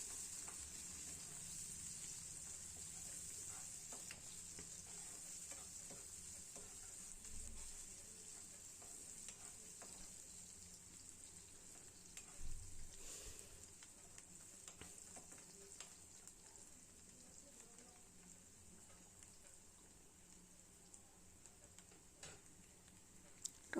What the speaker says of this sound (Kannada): ಈರುಳ್ಳಿ ಟೊಮೆಟೊ ಹಣ್ಣು ಎಲ್ಲ ಹಸಿ ಸ್ಮೆಲ್ ಹೋಗ್ಬೇಕು, ಚೆಂದ ಫ್ರೈ ಆಗಬೇಕು. ಕೈ ಆಡಿಸ್ತಾ ಇಡೋಣ, ಮೀಡಿಯಮ್ ಉರಿ ಇಟ್ಕೊಂಡು.